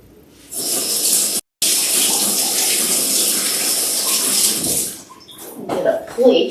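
A kitchen tap runs steadily as hands rinse off after breaking fresh mozzarella into bite-size balls for a caprese salad, with a brief cutoff partway through, then the flow stops and faint kitchen clatter follows.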